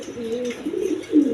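Yellow-and-black Rajgolla pigeons, two females sitting on a pair of eggs, coo softly in short low warbling bursts, close by and with no other sounds around them.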